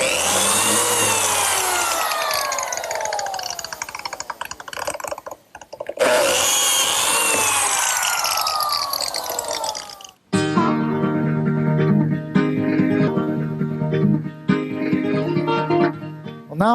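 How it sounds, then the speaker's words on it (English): A biscuit joiner's small pivoting saw blade plunges twice into wood, each cut a loud whining burst of rising and falling pitch, followed by a steady, dense power-tool hum that continues to the end. "I use this biscuit joiner, which is a tool specifically designed to pivot and plunge this little saw blade so that it makes a half moon for the biscuit"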